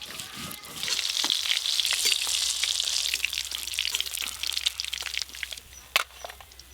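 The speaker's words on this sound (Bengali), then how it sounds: "দেখতে দেখতে এই মাছগুলো ভাজা হয়ে গেল" Goldfish pieces frying in mustard oil, a dense continuous sizzle with scattered crackles and pops, close and moderately loud, with an occasional sharp clink near the end.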